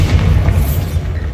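A Bombarda blast spell goes off in the Hogwarts Legacy video game, a loud, close, low rumbling boom that holds steady for over a second.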